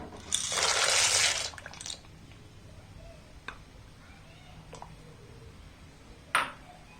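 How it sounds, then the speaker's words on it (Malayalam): Dry macaroni pasta tips into a pot of water in a burst of about a second and a half, followed by a few faint, isolated taps and a short splash near the end. "ഇനി ഇതിലേക്ക് നമ്മൾ എടുത്തു വെച്ചിരിക്കുന്ന പാസ്ത ചേർത്ത് കൊടുക്കാം"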